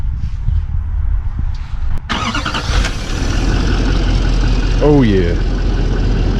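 An Isuzu D-Max engine cranks and fires up partway through, then settles into a steady, close idle that carries to the end, with someone speaking briefly over it.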